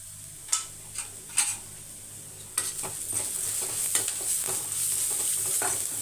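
Carrots being stirred with salt in a hot pan, giving a steady sizzle with several sharp scrapes and knocks of the utensil early on, close and fairly loud, with no talking.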